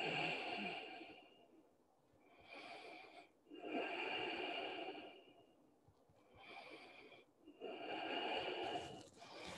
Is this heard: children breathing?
yes